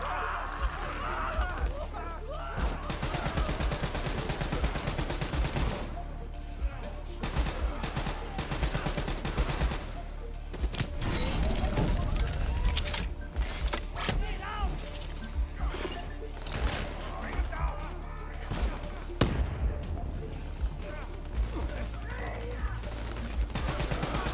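Sustained gunfire and automatic weapon bursts from a Call of Duty: Black Ops III campaign battle, dense and continuous across the scene alongside crashes and mechanical clatter, with voices calling out over the combat.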